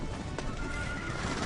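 Well-trained, well-broke horses on a Montana stampede, a whinny ringing out over a steady rush of hooves and wind-like noise, brief and fairly close.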